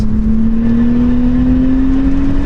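A 2001 Audi RS4 B5 wagon accelerates hard, its engine a loud, steady drone that climbs gradually in pitch as the revs build, heard from close by with no voices.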